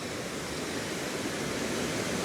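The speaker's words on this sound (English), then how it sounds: "I've come across a section of the water. You can hear it in the background rushing away." A stream on Middle Fell in the Lake District rushes steadily down the hillside, a dense, unbroken broadband roar of flowing water, fairly close and even in loudness, with no voices.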